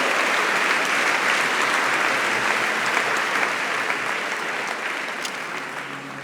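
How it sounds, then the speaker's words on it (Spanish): Church congregation applauding for the King, a broad even wash of many hands clapping that holds steady and eases off slightly toward the end, with no talking over it. "Denle un aplauso al Rey"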